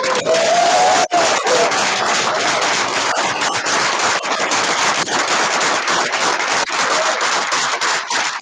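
A large crowd cheering and applauding loudly and continuously, with whoops and shouts rising above dense clapping.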